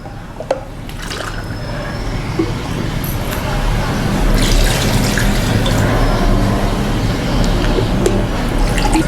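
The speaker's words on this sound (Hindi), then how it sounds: "तो देखिए ना, 2 गिलास पानी डालेंगे हम इसके अंदर।" Water poured from two glasses into a pot of chicken nihari, a steady liquid splashing and gurgling with a few drips and clinks, close by over faint background hum.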